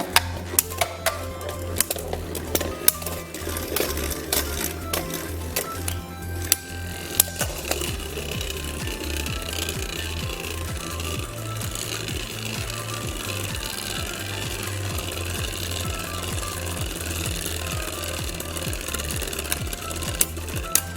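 Beyblade Burst tops Ogre 04 Knuckle Xtreme and Evipero Gravity Unite clash inside a plastic stadium, giving a steady, dense whirring grind with rapid rattling hits and clicks that run for the whole stretch.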